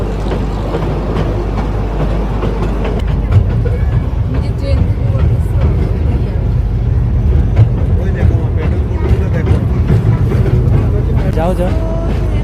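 A slow-moving children's ride train at a new park in Rajshahi rumbles steadily and continuously, with voices and crowd chatter from riders and onlookers mixed in.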